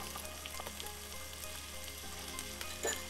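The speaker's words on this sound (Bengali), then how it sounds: "এটাকে আমি একটু 1 থেকে 2 মিনিট একটু ভাজা ভাজা করে নিব" Beef and corn noodles in sauce sizzle steadily in a pan for Korean-style chowmein, a close, continuous crackling fry with light stirring clicks and a slight rise at the end, no voices.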